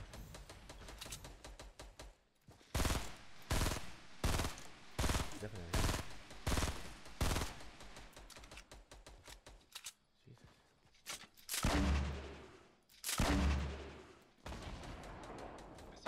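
Rapid automatic gunfire from Fortnite, bursts of repeated shots with pauses between, loud and close, with players talking at times in between.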